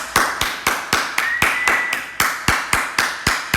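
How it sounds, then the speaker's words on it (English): Children clap together at a primary school assembly, producing a slow, even, rhythmic series of sharp unison claps, about three per second, loud and close, with a faint voice briefly under them. "Give them a clap."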